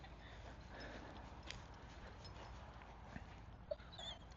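A dog gives soft, drawn-out whines and whimpers through a steady outdoor background during a loose-leash walking session, with a few faint sharp sounds near the end.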